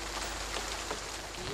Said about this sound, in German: Der Regen prasselt unaufhörlich auf unsere Schirme.